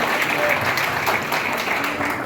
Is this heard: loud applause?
yes